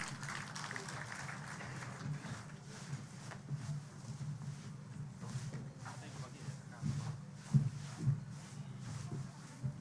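Faint, distant applause in a large hall at a national drama and film festival at Kangari Girls, Embu county, as a chairperson is welcomed on stage, a low hum running underneath.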